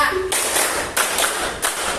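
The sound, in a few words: classroom rhythmic counted clapping game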